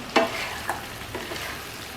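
Cut bitter gourd pieces tipped into a pan of fish stew with potatoes, giving a quick close splash and sizzle followed by a brief stir, then a soft continuous frying hiss.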